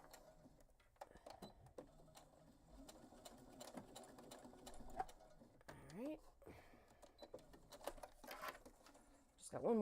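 A sewing machine runs through a backpack seam in bursts of quick, steady mechanical stitching, with brief pauses between runs and a voice talking over parts of it.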